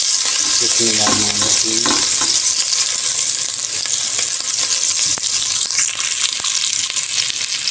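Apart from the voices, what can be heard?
chopped green chillies frying in hot cooking oil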